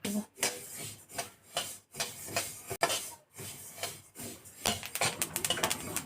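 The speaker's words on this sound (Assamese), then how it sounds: "কেৰাহী গৰম হৈ গৈছে এতিয়া তিলখিনি ভাজি লম" Sesame seeds dry-roasting in a hot kadai for sesame laddu, rhythmic scraping and rustling strokes of a spatula stirring the seeds in repeated bursts with short pauses, quicker near the end, no talking.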